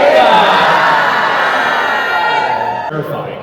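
A large live audience at a creator event in London roars, shouting and cheering together on cue, loud and sustained before tapering off, with a crowd-wide wash of voices.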